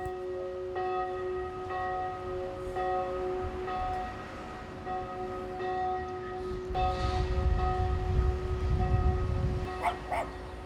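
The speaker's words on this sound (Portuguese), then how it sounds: "o sino da igreja luterana ainda hoje desperta os moradores às 6 horas da manhã" A Lutheran church bell rings in a small town in western Santa Catarina, Brazil, with steady repeated strikes and a long sustained hum, while a dog barks and a low background rumble builds toward the end.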